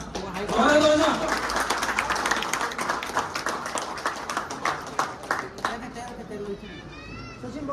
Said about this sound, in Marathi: जोरात वाजवा.